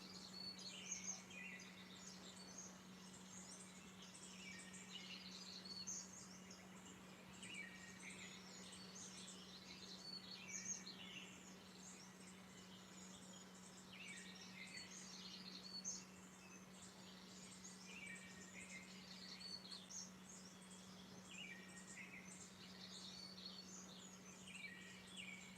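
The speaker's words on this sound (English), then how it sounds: "Therapeutic birds going." Small birds sing and chirp continuously in the background, a busy overlapping chorus of bright tweets with a steady low hum beneath, fairly distant and moderately quiet.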